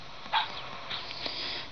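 A Labrador puppy in the Nintendogs game gives a couple of brief, high yips and whimpers, faint and quick, over quiet background.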